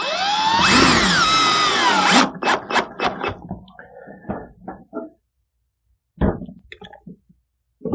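A power drill whirs in a bright sustained burst that loosens screws on the ballast support frames of an ESB Galaxy 30 tanning booth, followed by several short stuttering pulses, a pause, then a brief final burst.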